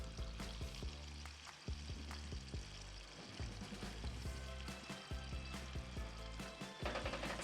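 Sugar and honey cooking in a pan while being stirred, with a steady sizzle broken by repeated scraping knocks of a utensil against the pan, close up and without voices.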